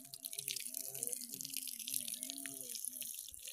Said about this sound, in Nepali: हजारीबाट पानी चाडेको म तपाईँहरूले देखाउन गइरहेको